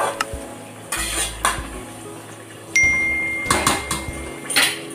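Chicken biryani being stirred in a metal pot, a series of sharp scraping clanks of a spoon against the pot at an irregular rhythm, close and fairly quiet, with no talk.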